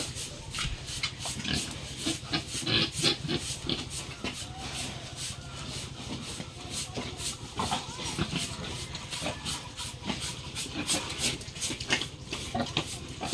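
Pigs on a farm grunting, snorting and oinking in a busy run of short repeated bursts, close and fairly loud throughout, with no talk.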